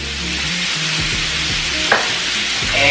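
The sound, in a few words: sausage frying in a pot for gumbo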